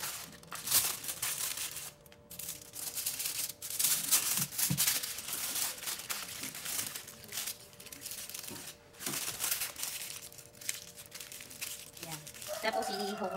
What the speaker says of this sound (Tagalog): Ayan na, itibabalot nga ito ng aking mga kamay dito sa foil.